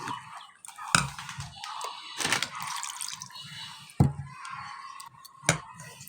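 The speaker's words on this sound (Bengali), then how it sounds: "অল্প অল্প করে জল নিচ্ছি" Water is poured a little at a time into rice batter for poa pitha, with several close, distinct drips and splashes set among quiet pauses.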